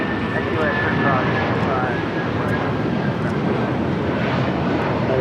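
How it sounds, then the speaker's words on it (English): A United Airlines Boeing 757-200 takes off from LAX, its engines producing a broad, steady roar that fills the whole stretch. Radio chatter and a commentator's voice carry over the noise. "That is United Airlines Flight 1700 taking off to New York on a 757-200"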